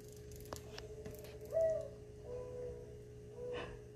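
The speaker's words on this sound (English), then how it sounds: "The sound of mourning doves is one of my favorite sounds." A mourning dove coos softly from a recording played on a phone speaker, low mellow notes over a quiet background with a few faint clicks.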